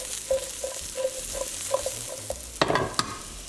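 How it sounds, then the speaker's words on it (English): Summer squash cooks in a pan with a quiet sizzle and a series of light scraping stirs, then a louder clattering toss near the end. "Add the squash. And we're going to let it cook for about 2 to 3 minutes."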